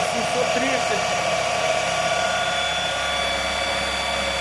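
An asynchronous induction motor running as a generator gives off a steady, loud mechanical whine and drone with a constant tone, and someone speaks over it.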